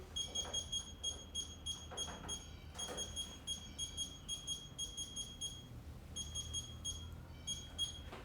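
An electronic kitchen timer alarm beeps repeatedly in a bright, fast chirping pattern, pausing briefly and resuming, while a steady background hum and clatter run underneath during pastry baking of chouquettes.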